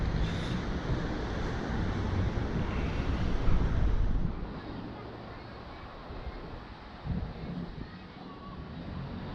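Ocean surf on the beach at Barranco, Lima, a steady broad wash of waves heavily mixed with wind buffeting the microphone, loud at first and easing after a few seconds.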